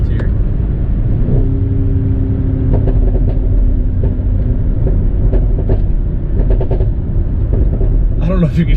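A deep Mercedes ML63 AMG SUV engine in sport mode rumbles loudly inside the vehicle, a low steady growl with a brief rising tone and a few sharp clicks and knocks.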